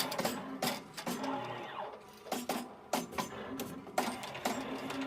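Melco EMT16X embroidery machine stitching at 1,000 RPM, a steady mechanical whirring and rattling with regular sharp clacks and thumps, close and moderately loud.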